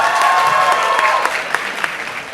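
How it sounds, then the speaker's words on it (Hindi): A crowd claps loudly at a Bollywood film jukebox launch, dense applause that slowly thins, with a few sharp individual claps standing out toward the end. "पर अपने लिए जोरदार ताली"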